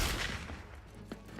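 Gunfire bursts in a video game, a dense, noisy volley loudest at the start, then fading into a rumbling backdrop with a few sharper shots near the end.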